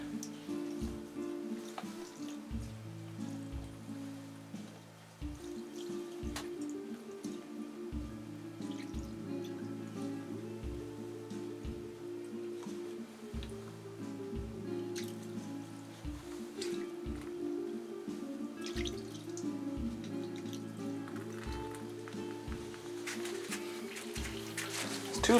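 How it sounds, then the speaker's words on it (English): Water poured onto a capillary mat drips and trickles, with many small irregular drops and patters that continue through the whole stretch, close and fairly quiet. "I'm just gonna pour water on it."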